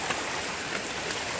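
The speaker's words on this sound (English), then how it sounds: "So, yep, a nice raging little stream there." A small stream swollen after heavy rain rushes in a constant, dense hiss of churning water, close and fairly loud, with no voices.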